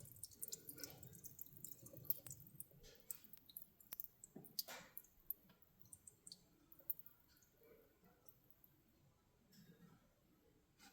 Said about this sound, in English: Let's get all that water out and then let's just drop the oil.